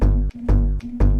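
A Vengeance sample looping in music production software for a remix: three loud, punchy bass-heavy synth hits in a tight repeating rhythm, each cut off sharply before the next, with no voices.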